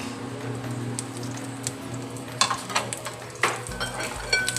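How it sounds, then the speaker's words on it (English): Butter heating in a hot pan before chicken is seared, a soft steady sizzle with a low hum, then sharper clinks and scrapes of a utensil against the pan toward the end. "Once you get the heat, put some butter."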